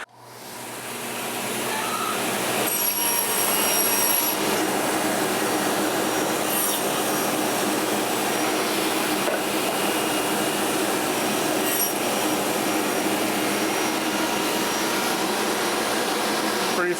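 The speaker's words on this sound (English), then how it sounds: "My first ever tenon. And I did it with the sliding table saw." A sliding table saw cuts a tenon in a woodworking shop, a loud, steady whining roar that spins up at the start and holds evenly throughout with no talking.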